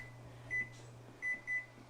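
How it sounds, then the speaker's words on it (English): A kitchen timer beeps three times in short bursts while potatoes boil, each beep a steady high electronic tone over a low constant hum. "Alright, my timer's gone off."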